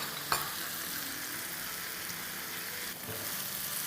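Chopped tomatoes and green chillies frying in a pan for double egg gotala, a steady sizzle throughout with a brief stir or clink near the start and another around three seconds.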